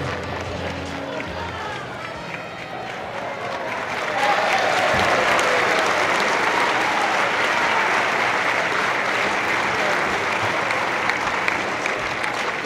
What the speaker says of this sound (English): Let's give these gentlemen a Explorers Club round of applause as they return the flag.